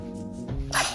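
A single quick sneeze bursts out near the end of a short moment, close and fairly loud, following a brief stretch of quiet talk.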